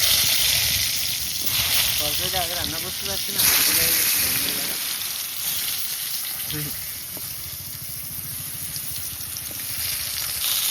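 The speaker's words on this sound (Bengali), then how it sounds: "এবার কুমড়ো ভাজা।" Pumpkin slices frying in hot oil in a home kitchen, a steady close sizzle and hiss running throughout, with someone talking over it for several seconds.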